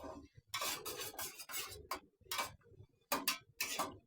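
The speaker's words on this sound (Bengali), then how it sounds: "15 মিনিট এভাবে নাড়তে হবে।" Repeated scraping strokes of a spoon stirring button mushroom tissue culture media ingredients in a pot over heat, about eight close, loud rasping sweeps in an irregular rhythm with short pauses between.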